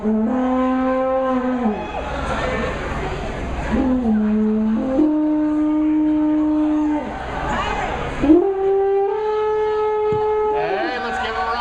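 Alpine horn played by an amateur at a live event, long sustained brassy tones that step between pitches, wobbling and breaking, with crowd murmur beneath.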